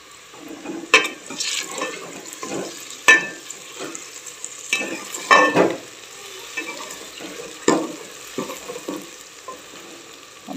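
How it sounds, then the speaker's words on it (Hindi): Okra (bhindi) fries in a pan with a steady sizzle while a spoon stirs it now and then, each stir bringing a louder scraping burst over the hiss. "भिंडियाँ अच्छी तरह फ्राई हो गई, अभी इनको मैं बाहर निकालती हूँ।"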